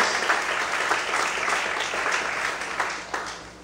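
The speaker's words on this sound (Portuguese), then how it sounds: "aplauda a Deus essa noite, em nome de Jesus. Mais fortes palmas" A church congregation at an evening service claps together in steady, dense applause, many hands filling the room with a continuous patter that eases slightly near the end.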